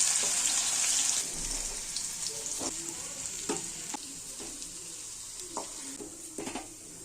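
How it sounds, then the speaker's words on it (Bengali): Potato pieces coated with a little turmeric sizzle steadily in hot oil, starting with a bright hiss that settles, broken by several sharp scrapes as they are stirred in the pan; close, with no voices. "আলুগুলিতে সামান্য হলুদ দিয়ে একটু লালচে কালারের ভেজে নেবো"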